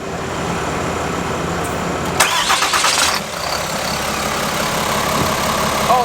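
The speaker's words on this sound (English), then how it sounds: "This one's quieter. Way quieter. It is way quieter. Way quieter on the engine." A Cummins diesel in a 2025 RAM HD pickup turns over with a brief burst of starter cranking, then settles into a steady, fairly loud idle close by, with no talk.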